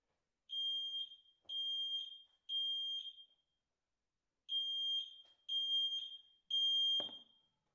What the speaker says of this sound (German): Der Rauchmelder im Wohnzimmer hat ausgelöst.